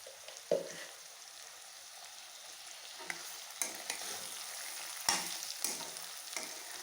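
Brinjal fry being stirred in a pan with chilli powder, giving a steady soft sizzle broken by a few sharp spatula scrapes and clinks, close and alone with no voices.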